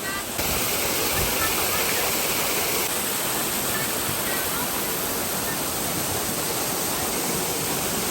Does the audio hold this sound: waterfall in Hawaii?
yes